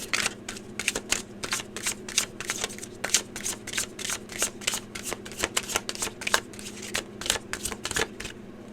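Rapid, rhythmic riffle of tarot cards being shuffled repeatedly, crisp flutters close by over a faint background hum.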